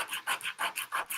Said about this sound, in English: just going to sand this slightly because maybe I can get some of that green off that way